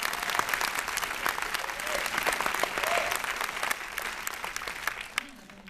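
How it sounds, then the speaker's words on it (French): An audience claps in sustained, even applause for a guest at a farewell event. It stays moderately loud throughout and tapers slightly at the end, with some talk beneath it. "applaudissez-la, Julie Delpech."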